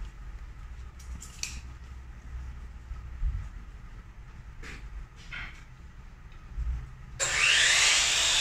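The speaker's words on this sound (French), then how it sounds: "je vais me couper 2 pièces à 5 pouces sur la scie onglet" A mitre saw cuts two five-inch wood pieces for a small window muntin project. Quiet shop handling and light knocks come first, then the saw whines up loud near the end.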